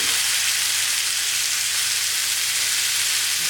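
Chicken sears in a pan over high heat, giving off a loud, continuous, even sizzle that holds steady throughout with no pauses.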